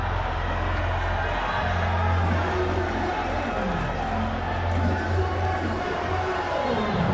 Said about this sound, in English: See the fans also screaming.